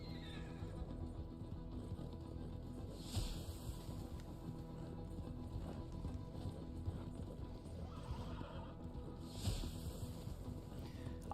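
Horses in the Red Dead Online video game whinny twice, with steady galloping hoofbeats running throughout, moderately close and without talk.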